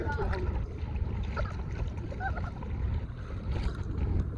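A low engine rumble and rushing water from a passing ship, heard from a kayak at Tubajon Aquamarine Park, with wind and faint voices in the background.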